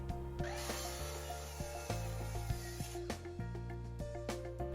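A power saw runs in a steady, close whine with strong humming overtones while cutting 2x8 and 2x6 wooden boards, its pitch shifting slightly as the blade bites.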